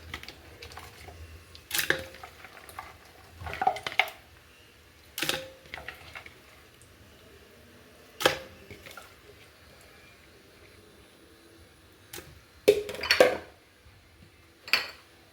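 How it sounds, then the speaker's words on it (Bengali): Goat meat goes into a pressure cooker with scattered metallic pot clatters and knocks, a few sharp clusters spaced out over a quiet kitchen background, no talking. "প্রেশার কুকারে আমি মাংসগুলো অ্যাড করে দিচ্ছি।"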